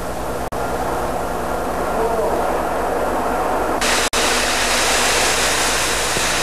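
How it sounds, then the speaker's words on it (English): A spray gun applies International Orange paint to aircraft parts, giving a steady, loud, continuous hiss that runs the whole time, with two brief breaks where the trigger releases. "Again, three coats of International Orange will be sprayed."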